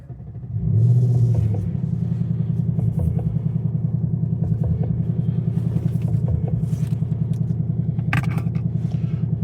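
A 2024 Ford Mustang GT convertible V8 fires up on push-button ignition: a brief starter whir, then a loud flare of revs that settles into a steady, throbbing idle close to the microphone.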